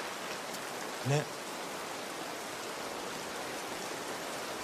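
Heavy rain pours steadily outdoors, a dense, even hiss filling the whole stretch, with a brief spoken word rising over it.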